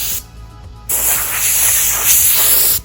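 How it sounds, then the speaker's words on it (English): Air compressor nozzle blowing dirt off cedar shutters: a loud close hiss of air that starts briefly, pauses, then blasts steadily for nearly two seconds before cutting off. "with the air compressor you're able to get just like"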